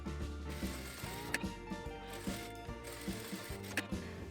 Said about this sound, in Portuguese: vou passar uma costura reta aqui e uma costura reta aqui com a distância de um pé de máquina